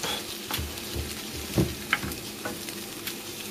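Blini frying in a pan, a steady close sizzle with a few soft scraping and tapping sounds from the pan and no voices.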